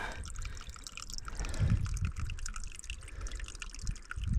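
Water drains from two outlets of a plugged field drain, a quiet, steady trickle with scattered drips and gurgles heard up close and without talk.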